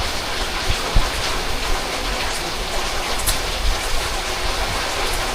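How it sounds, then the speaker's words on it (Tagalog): Heavy, nonstop rain pouring down, a loud, dense hiss of drops on surfaces with occasional heavier splashes and low thumps, steady and close throughout. "Walang tigil yung ulan na yan."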